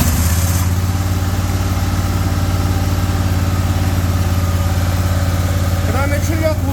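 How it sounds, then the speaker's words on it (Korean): Petrol engine of a high-pressure sewer drain cleaning machine running at a steady idle, a loud continuous low rumble throughout, with a brief change near the end. "이 상태에서 시동 스타트를 걸릴 때까지 꾹 눌렀다가 시동이 걸리면 떼면 돼요."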